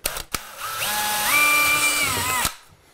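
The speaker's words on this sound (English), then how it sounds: "then you can drill holes" A couple of clicks, then a power drill spins up with a whirring whine, rising slightly in pitch as it bores holes for kitchen cabinets, before stopping abruptly.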